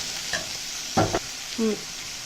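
Mixed vegetables with beans sautéing in a pan for schezwan fried rice, a steady sizzle broken by a couple of distinct clanking spatula stirs against the pan, no speech.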